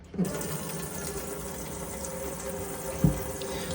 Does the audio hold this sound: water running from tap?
yes